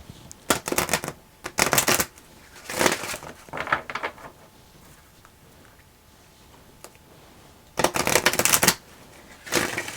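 A deck of tarot cards is shuffled up close in several loud, crisp riffling bursts with short pauses between them.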